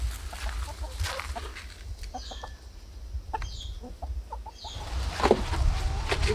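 Hens cluck around a French countryside farmyard, with soft, scattered clucks and short calls over a low, steady outdoor rumble and occasional nearby knocks.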